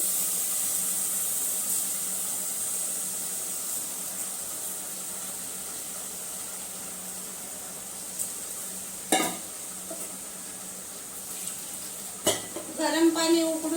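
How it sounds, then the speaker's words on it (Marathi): Washed rice sizzles in hot oil in a pan for egg biryani, a steady bright hiss throughout, with a few metallic scrapes and clinks of stirring near the end. "हे बघा मी तांदूळ तेलातच थोडं गरम करून घेते"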